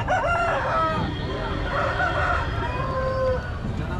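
A rooster crows loudly and close from inside a tied bag at a chicken market, sounding muffled and enclosed, over a dense low rumbling background.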